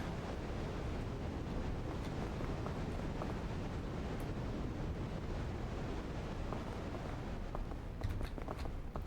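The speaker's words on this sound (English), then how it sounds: "Oh, it's fucking windy. That's windy out here." Steady, blustery wind on a steep mountain climb in the video game PEAK, a low continuous whoosh with faint scattered clicks and taps, no talking.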